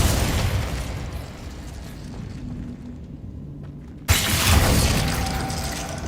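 A Glacius ice spell goes off in Hogwarts Legacy as a loud, dense blast of noise with a sudden sharp burst partway through, followed by a roaring, crackling wash.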